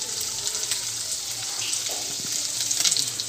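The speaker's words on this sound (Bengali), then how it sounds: "আজ পনির রান্না হচ্ছে।" Paneer frying in a pan makes a steady, fairly loud sizzling hiss with faint scattered pops and clinks.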